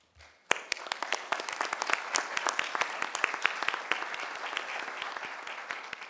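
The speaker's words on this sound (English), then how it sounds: "stand up and get a round of applause" A crowd at a city commission meeting breaks into sustained applause, many hands clapping densely and evenly for several seconds, moderately loud in a large room.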